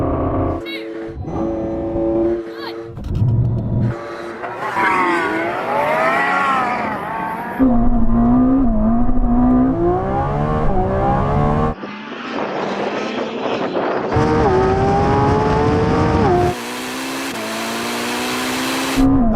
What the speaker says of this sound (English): That was a fair launch, neck and neck. And this is killing the Lamborghini.